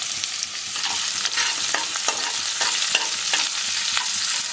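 Chopped onion sizzles in hot oil with curry leaves in a pan for a moong dal tadka. A steady, close frying hiss is punctuated by regular stirring scrapes, and no voices are heard.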